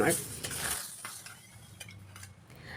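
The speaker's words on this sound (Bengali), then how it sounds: "এই ফোড়নটা আমি দেই মুসুর ডালে।" Spice tempering with asafoetida for masoor dal sizzles softly in a pan, a brief hissing burst at the start followed by quiet, faint clinks of utensils.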